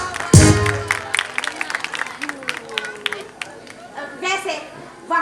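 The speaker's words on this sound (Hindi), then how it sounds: "अगर समझ आए तो तालियां बजाना।" An audience at a stage drama breaks into scattered clapping after a sharp opening hit, with murmuring and chatter mixed among uneven bursts of applause that rise and fade.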